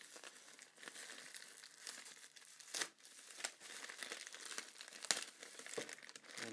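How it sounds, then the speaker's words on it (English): Padded mailing envelope for metal miniatures crinkling and tearing open up close, a steady papery rustle broken by a few sharper rips, with no talking. "So they come in this padded envelope."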